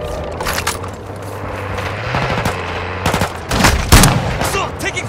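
Automatic gunfire in Call of Duty: Modern Warfare II rattles in rapid, loud bursts that build toward the end, with sharp cracks among the close, dense firing.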